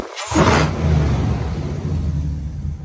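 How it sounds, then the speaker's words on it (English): A 2019 Dodge Durango R/T fitted with a Hellcat supercharger revs briefly, then settles into a steady, close engine rumble with a faint blower whine. "Hear what the blower sounds like."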